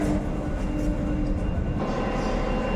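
A Paris metro train rolls into a station on the line toward Port de la Villette, a steady rumbling rush of wheels and motor filling the platform, loud and continuous throughout.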